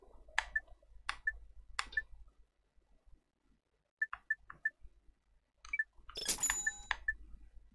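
Bolt pickups in the PS2 game Ratchet & Clank: Going Commando, crisp metallic chiming clicks arriving in small spaced clusters against near silence, ending in a brighter jangling burst of several pickups at once.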